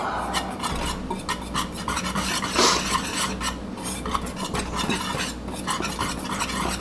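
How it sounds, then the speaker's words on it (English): Whisk scraping and rasping through flour and baking powder in a bowl, a rapid, continuous run of close scratchy strokes with a few sharper clinks against the bowl. "We're just going to whisk that up really well."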